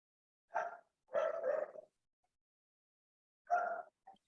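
A dog barks in short bursts, a single bark, then a doubled bark, a pause, and another bark with a small trailing yip, fairly close.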